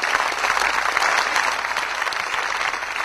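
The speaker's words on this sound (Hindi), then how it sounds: "दोनों के लिए जोरदार तालियां हो जाए." Enthusiastic clapping from an audience at a song gathering, a thick, continuous wash of hands that holds fairly loud and even for a few seconds.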